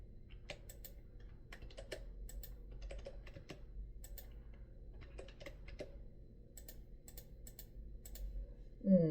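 Typing on a computer keyboard into a spreadsheet cell: irregular bursts of quick, light key clicks with short pauses, fairly close and quiet, with no speech until a faint voice at the very end.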